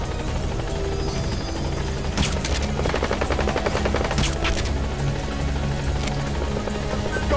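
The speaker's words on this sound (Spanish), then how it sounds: "el helicóptero, lo han localizado" A helicopter in the video game Metal Gear Solid V The Phantom Pain thumps steadily and loudly throughout, with rotor chop and bursts of gunfire-like crackle layered over the engine roar.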